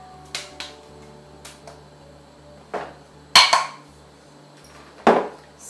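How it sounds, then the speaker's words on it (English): Oregano and basil being stirred into broth in a pot, heard as scattered metal clinks and taps of a utensil against the pot, a few louder knocks among quieter ticks, close and without talk. "Stir that in, get it mixed"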